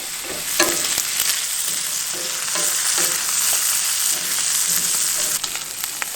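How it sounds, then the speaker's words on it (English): Cubed burger and sliced sausage pan frying, giving a loud, steady close-up sizzle and crackle with occasional stirring scrapes throughout and no talking. "We just cubed up a burger, sliced up a sausage, and pan fried it"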